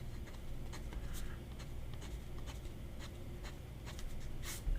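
Fountain pen with a wet fine-to-medium nib scratching across paper in quick repeated strokes, soft and close, with faint rhythmic scritches over a low background hum.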